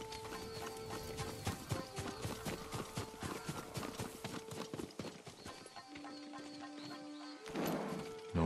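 Horse hooves clip-clop on the ground in the Ghost of Tsushima game, a steady run of close, moderately loud footfalls over tonal ambient music, with a brief louder rustle near the end.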